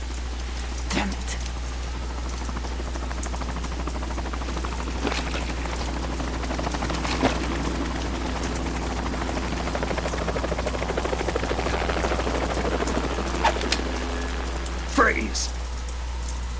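A helicopter in the video game Metal Gear Solid 2 drones steadily at close range with a deep, continuous rotor hum, while scattered sharp clicks and brief thuds punctuate it.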